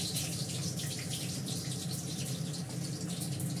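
Cumin seeds are tempering in hot oil, giving a continuous, dense crackling sizzle that holds at an even level throughout, near and without voices.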